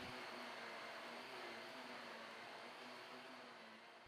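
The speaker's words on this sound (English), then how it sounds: "I knew there was a reason I wouldn't let my wife get rid of the old vacuum." An old vacuum cleaner running in a garage workshop, a steady broadband whoosh with a low motor hum, very faint and unbroken, with no voices.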